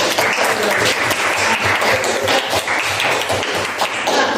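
Applause breaks out for a dance group in a school lesson: dense, lively clapping with sharp individual claps standing out, continuous throughout.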